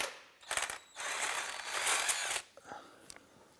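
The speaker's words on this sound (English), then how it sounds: "let's go ahead and remove the crank bolt" Ratchet clicking as a crank bolt is loosened on a 2001-2005 Honda Civic during timing belt work, with several bursts of rapid mechanical clatter close by, alone without talk.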